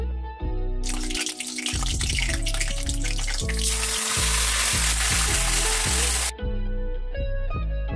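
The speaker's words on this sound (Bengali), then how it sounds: "ভালো করে এবার ভেজে নিলাম সেগুলোকে।" Chicken pieces fry in melted butter in a wok, giving a loud, steady sizzling hiss over a prominent background of rhythmic music with a strong beat.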